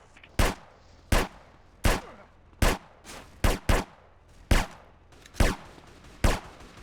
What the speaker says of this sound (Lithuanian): 3 šaudo mane